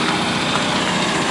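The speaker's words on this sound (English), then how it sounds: "We've got the engine and the generator running." A 1997 Chevrolet P30 Crown surveillance van's engine and a Marquee Gold 7000 generator run together in a dense, steady, loud mechanical hum with broadband noise, heard up close with no talking.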